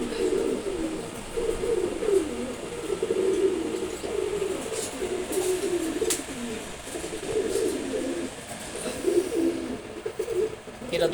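Pigeons of the Maksi Huma breed coo in a steady, low, continuous murmur near a month-old chick learning to fly, with a few brief chirps on top.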